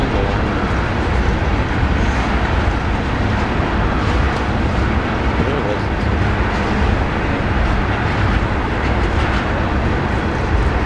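A loud, steady rumble of a long CSX ethanol freight train rolling past close by in Columbus, Ohio, continuous rattling and clanking of rail cars with no break.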